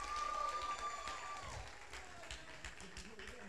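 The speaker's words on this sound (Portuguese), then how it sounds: "Eu quero que vocês aplaudam o Senhor pela vida deles também." A church congregation applauds together, a steady sustained wash of clapping that holds from start to finish with some voices mixed in.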